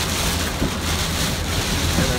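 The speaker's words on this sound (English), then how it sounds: "We're beginning to get the start of Hurricane" Steady rain and gusting wind at the onset of Hurricane Matthew in Greenville, North Carolina, a loud, continuous broadband wash filling the whole span, with no voices over it.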